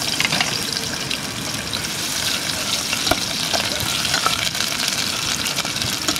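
Onion sautéing in a pan at an outdoor campsite, a loud, dense, steady sizzle with occasional stirring scrapes throughout.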